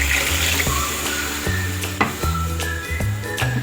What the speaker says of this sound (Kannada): ಇದಕ್ಕೆ ಇವಾಗ ಸ್ವಲ್ಪ ನೀರು ಆ್ಯಡ್ ಮಾಡಿಕೊಂಡು ಇದನ್ನು ಕುದಿಯೋದಕ್ಕೆ ಬಿಟ್ಬಿಡೋಣ